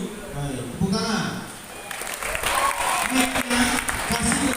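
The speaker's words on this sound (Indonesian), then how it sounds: "tepuk tangan." Students at a Ramadan pesantren morning study session break into applause: a voice speaks first, then a broad wash of crowd clapping rises and fills the rest, fairly loud.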